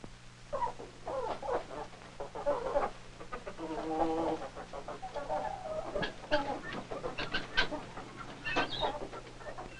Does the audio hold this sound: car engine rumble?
no